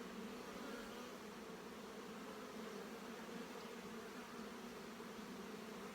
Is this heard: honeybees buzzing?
yes